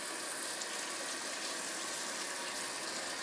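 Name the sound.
water running from kitchen sink tap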